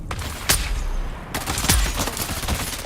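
Gunfire bursts out during an ambush in the video game Dune Awakening, with several sharp, loud shots and rapid volleys over a dense, rumbling battle background.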